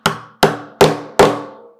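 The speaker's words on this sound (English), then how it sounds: "we're going to tap it down until the edge of the dowel makes contact with our work surface" Four sharp taps about a second apart drive a wooden dowel down into a lap desk leg, each a crisp, close knock with a short ringing decay.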